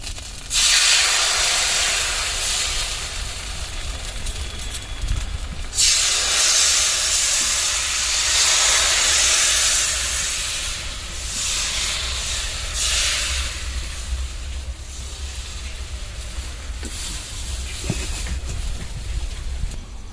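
Pitha batter is poured into a hot wok for the Poush Parbon festival, giving a loud, rushing hiss. The hiss swells in several bursts, then settles into a softer, steady sizzle.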